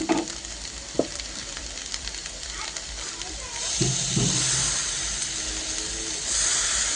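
Sabudana and guava khichdi is stirred in a pan on the stove: a few spoon scrapes sit over a soft, steady sizzle that grows louder toward the end.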